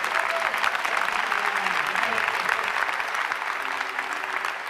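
At a Star Trek convention costume contest, a crowd gives a steady, dense round of applause for a winner. The clapping stays loud throughout, and a faint murmur of voices runs underneath.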